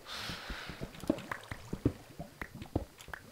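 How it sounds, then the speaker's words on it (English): Lava bubbling and popping in a blocky Minecraft-style game, heard as a scatter of soft wet plops and drips at an uneven pace, fairly quiet and close with a brief hiss at the start. "I can hear lava about the place too"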